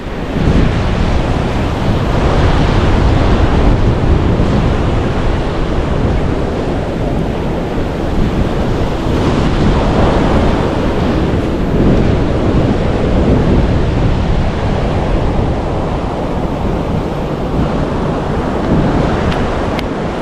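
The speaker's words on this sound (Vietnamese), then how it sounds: "Vậy là mình đã tới được hai bãi biển, hai biển Đại Tây Dương và Thái Bình Dương." Atlantic Ocean waves breaking on a beach, a loud, continuous roar of surf with rolling swells and heavy wind buffeting the microphone, no voices.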